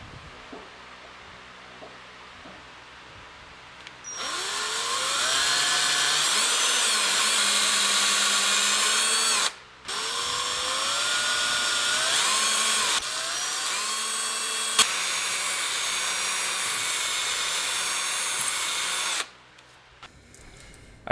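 A power tool cuts a slot in knife handle stock, whining loudly and steadily in two long runs, each several seconds, with the pitch shifting as the cut loads it and brief pauses in between.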